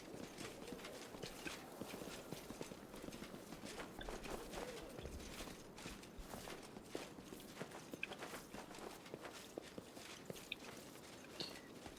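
Horse hooves clip-clop in the video game Pathfinder: Wrath of the Righteous, a faint, continuous patter of steps with no break.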